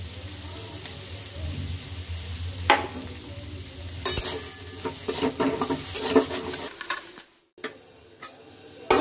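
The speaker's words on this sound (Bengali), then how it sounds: "চিকেনটা হয়ে গেছে, দেখতে পাচ্ছ চিকেনটা ফ্রাই হয়ে গেছে" Chicken for chowmein sizzles and fries in a pan while a utensil stirs and scrapes it in repeated close strokes, the steady sizzle running throughout with clattering knocks and a brief pause near the end.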